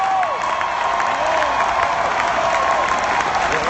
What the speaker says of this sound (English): Somebody clap your hands up.